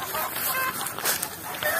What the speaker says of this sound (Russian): Мы идем проверять цыплят.